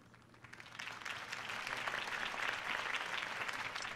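A video game crowd claps steadily, the applause swelling after the first second and holding at a lively, even level until the end.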